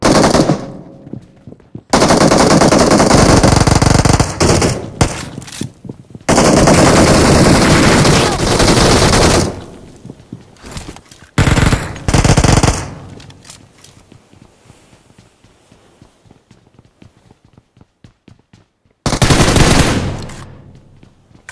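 Heavy automatic gunfire in BGMI competitive gameplay on an iPhone XR, loud bursts dropping enemies at close range, with long sustained volleys and shorter stuttering bursts separated by near-silent gaps.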